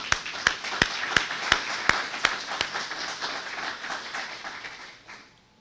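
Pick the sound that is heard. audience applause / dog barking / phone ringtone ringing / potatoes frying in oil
audience applause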